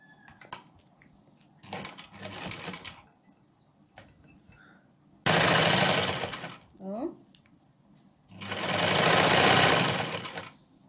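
A sewing machine stitches closed the back seam of a bridal nightgown in two loud, steady bursts of rapid mechanical whirring. Quieter handling noises and brief speech fill the gaps between the runs.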